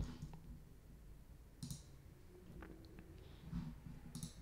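Several faint, sharp mouse clicks while saving display settings in Drupal 8 site building, spaced irregularly over quiet room tone with no talk.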